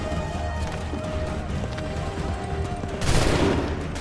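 Musket volley fire rings out in the video game Assassin's Creed III, a steady crackle of shots that swells into a louder burst near the end, with no speech.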